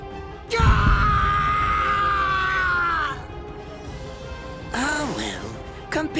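A man in the Bleach: Rebirth of Souls video game screams in pain in a long, loud, strained cry. After a pause, shorter wavering yells follow with a crash-like burst under the first scream.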